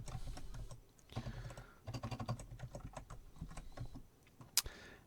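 Password typed on a computer keyboard at a login screen: a fast run of light, close key clicks in uneven bursts with short pauses and a louder tap near the end, no voices.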